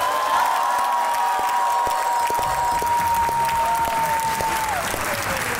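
A studio audience on the talk show Hasna Mana Hai applauds guests, with dense, sustained clapping at an even level and a thin steady tone running beneath it.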